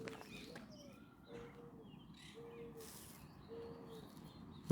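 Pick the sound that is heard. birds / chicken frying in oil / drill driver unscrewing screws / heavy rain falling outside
birds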